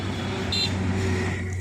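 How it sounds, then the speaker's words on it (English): Steady low engine rumble of idling road traffic in a jam near Talaigaon on the walk from Mumbai toward Tirupati, with a brief high horn-like tone partway through, a continuous close vehicle drone throughout. "Traffic jam"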